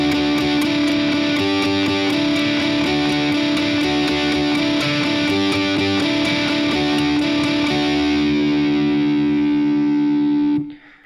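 Distorted electric guitar plays a driving, steadily repeating sixteenth-note riff, loud and continuous without voices, then rings out and is cut off near the end.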